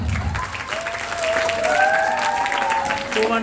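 Schoolchildren clap to welcome a teacher to the stage at a school learning festival, a moderate steady round of applause under a voice that keeps speaking.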